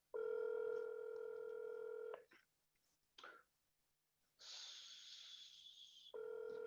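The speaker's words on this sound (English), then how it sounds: "Dialing." Telephone keypad tones, a long steady multi-tone beep followed after short gaps by a sustained higher tone and another tone at the end, loud and close with little else around them.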